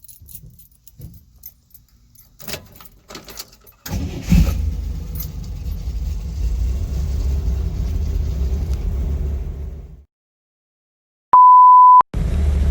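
Keys jangle before a 1964 Chevrolet Corvair engine starts and runs loud and steady for several seconds, then cuts out, followed by a sustained electronic beep and the engine returning.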